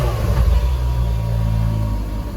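A 2013 Ferrari California's engine revs in a steady, loud, close-up drone with low rumbling harmonics, running continuously with no speech over it.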